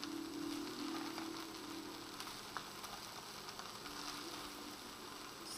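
Vegetarian fried rice with peas sizzling in a pan on high heat, a steady soft hiss and crackle with faint stirring scrapes, heard alone.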